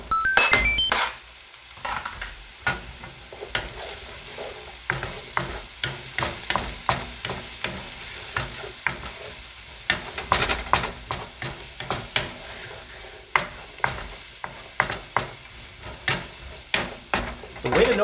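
Sliced mushrooms cooking in a pan for tuna casserole, a steady sizzle broken by many sharp, irregular scraping and clattering strokes of a utensil against the pan; close and fairly loud, no talking.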